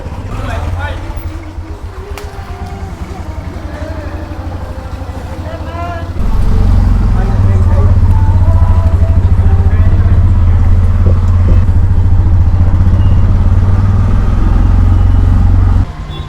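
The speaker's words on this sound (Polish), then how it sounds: "nasz tuktuk ten świecący przyjechał, idziemy wsiadać" Small tuk-tuk motor engine droning steadily from start to finish in Cambodia, growing louder partway through as the ride gets underway, with people talking over it.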